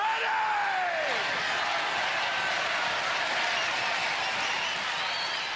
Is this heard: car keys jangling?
no